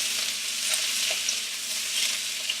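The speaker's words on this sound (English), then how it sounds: "Get my onions in there. And I'm going to stir it a bit here to get it, keep it from sticking." Onions sizzle loudly in a hot pan for a vegetable stir fry with rice noodles, a dense continuous frying hiss with faint stirring ticks and no voices.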